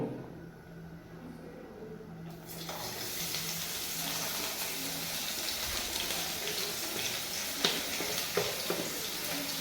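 Ingredients for Maggi noodles go into a hot pan and set off a loud, steady sizzle. The sizzle starts abruptly after a quieter start and then hisses on continuously, close by, with a few small clatters near the end.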